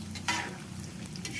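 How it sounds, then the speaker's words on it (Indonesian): Tempeh frying in hot oil over medium heat while being stirred, a steady close sizzle with a brief louder burst of spatter and scraping early on, no talk. "Setelah minyaknya panas, kemudian kita goreng tempenya."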